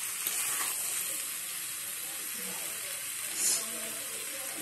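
Local chicken meat frying in a pan, a soft continuous sizzle and hiss at low level with a brief louder spit near the end.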